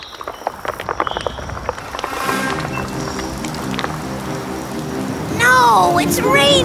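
Rain patters steadily on a surface after a few scattered drops, with a high squeaky vocal sound rising at the end.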